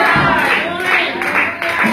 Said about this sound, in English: Clap your hands and magnify the name of the Lord.